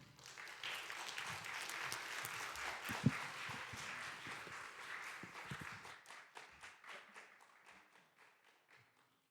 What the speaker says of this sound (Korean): 앞으로 나올 때 환영의 박수로 맞이해 주세요